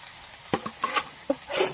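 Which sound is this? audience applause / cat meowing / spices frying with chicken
spices frying with chicken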